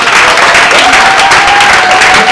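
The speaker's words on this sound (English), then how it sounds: "I want us to clap for the management of the market." Loud, close audience clapping at a skill-training event at a market, brisk and continuous throughout with a faint tone running beneath.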